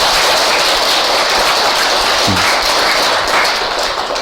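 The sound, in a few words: audience applauding at a Buddhist dharma talk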